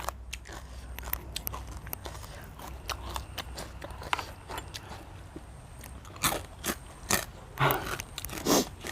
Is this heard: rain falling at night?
no